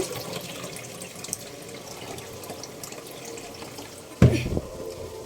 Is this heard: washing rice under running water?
yes